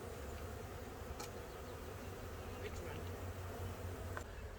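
Honeybees hum steadily around a horizontal hive outdoors, a dense continuous buzz with a few individual bees passing close, no talking over it.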